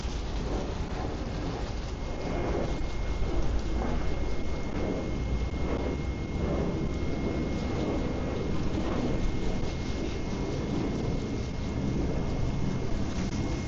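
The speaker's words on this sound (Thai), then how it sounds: "กลัวลมพายุแรงมาแล้วเดี๋ยวจะตัดแล้วเนี่ย" Thunderstorm with steady heavy rain and strong wind on a third-floor rooftop garden, a dense continuous wash of downpour with low rumbles of thunder rolling underneath throughout.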